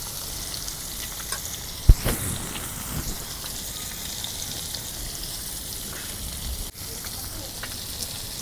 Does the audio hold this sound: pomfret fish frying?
yes